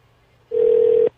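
A single steady phone tone sounds for about half a second, clean and alone against quiet background.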